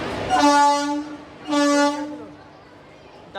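A WP4 locomotive hauling the Azimganj–Krishnanagar passenger train gives two loud horn blasts as it departs Palashi station, followed by a quieter rumble and a brief clank at the end.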